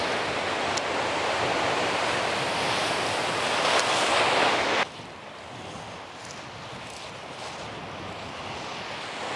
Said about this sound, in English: just gonna wait for some waves to roll in